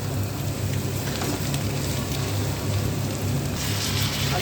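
Vegetables and an egg frying in a pan for chowmein, giving a steady, dense sizzle with no break, close and fairly loud.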